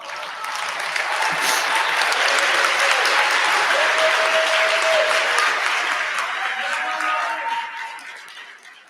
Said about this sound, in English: let's give Miss Betty Stein another round of applause